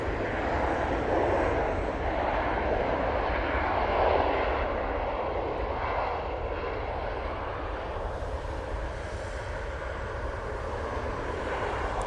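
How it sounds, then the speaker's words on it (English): A KLM Embraer jet departs for Amsterdam Schiphol, its engines a loud, steady broadband roar that holds throughout and slowly shifts in tone as the aircraft climbs away. "KLM Embraer going back off to Amsterdam Schiphol."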